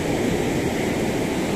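Ocean surf at San Pedro beach in Lima, Peru: a loud, steady broadband wash of breaking waves close by, with no voices.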